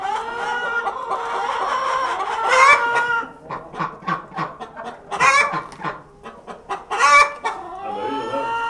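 Several chickens cluck close by, with busy overlapping clucks and a few louder squawks rising above the flock.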